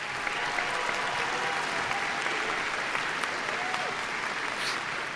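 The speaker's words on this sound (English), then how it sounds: "Yes, a round of applause to her as well." Steady, dense clapping from a large crowd at a college commencement ceremony, loud and sustained for several seconds with no break.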